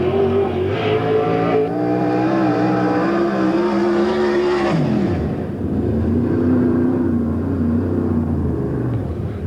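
Non-wing SCRA sprint cars race a lap at Lincoln Speedway, engines roaring loud and close in a dense, continuous blare; at one point the pitch sweeps sharply downward as a car passes, then the roar settles back in.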